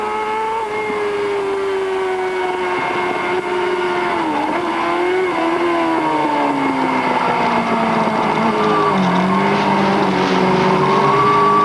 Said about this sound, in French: on vous laisse apprécier ces images et le bruit du moteur de la Kawasaki.